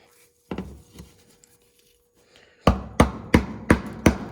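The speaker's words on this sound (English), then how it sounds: "we just use our screwdriver. We kind of just trying to break this apart." A screwdriver chips at a bleach toilet cleaner tablet for a Fluidmaster Flush 'n Sparkle refill, two light taps followed by a run of five sharp, loud, evenly spaced strikes up close with no talk.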